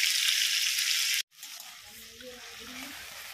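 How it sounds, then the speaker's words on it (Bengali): Jute leaves frying with garlic in hot oil, a steady loud sizzle that cuts off abruptly, then resumes quieter with soft stirring scrapes and faint voices in the background. "তো এদিকে আমি বসিয়ে দিয়েছি শাক ভাজা"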